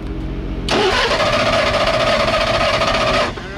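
A damaged drag racing car engine cranks and fires into a loud, rough, close idle that runs steadily for a few seconds before cutting off.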